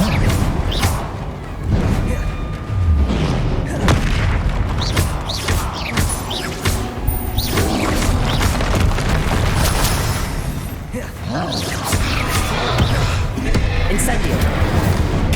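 Spell blasts and booming magical explosions from the Hogwarts Legacy video game, firing in rapid succession with heavy impacts and crashes while a voice calls out spell names throughout.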